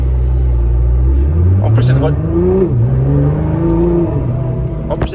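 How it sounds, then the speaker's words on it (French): A 1000-plus horsepower Nissan GT-R revs close by, its engine note climbing through a few short accelerations over a deep idle rumble, with a brief voice speaking over it. "fais trois petites accels"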